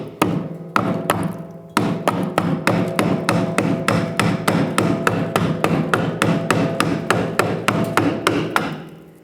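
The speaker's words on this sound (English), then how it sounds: "So I'm going to take a hammer and try to spin it counterclockwise to unlock it." Repeated sharp metallic hammer blows on the fuel pump cover of a 1997-2001 Lexus ES300, in a fast, steady rhythm, loud and close, ringing slightly on each strike with no talking.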